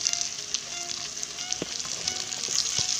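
Potato pieces and Malabar spinach stalks sizzle steadily in hot oil alongside pumpkin for a fish-head pui shak dish, a continuous close frying hiss with a few sharper pops, no talking.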